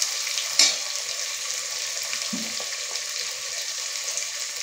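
Tomatoes and okra cook in a pan for sambar, giving a steady, soft frying hiss that runs evenly throughout, with a brief clatter near the start and a faint knock midway.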